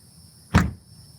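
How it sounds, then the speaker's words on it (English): A heavy, reinforced steel car door, weighted with about 40 extra pounds, slams shut once, a single solid, loud thud with a short rumbling tail and no voices. "The whole, the whole car shakes when you shut the door."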